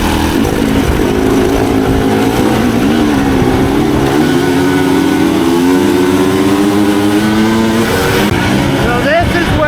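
A dirt bike engine revs loudly and close as the rider brakes and accelerates during training, the pitch dipping and climbing in waves, with wind noise and a voice talking over it.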